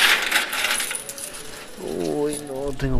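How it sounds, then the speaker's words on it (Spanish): Coins paying out from a casino slot machine: a rapid metallic clatter of many coins dropping into a tray, loud and close, with an electronic jingle rising beneath it toward the end. "Monedas también me están dando."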